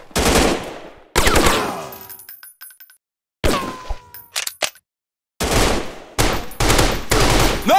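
Bursts of rapid automatic gunfire from an Android first-person shooter game, loud and close, coming in several separate volleys with short silent gaps and sharp metallic clinks between them.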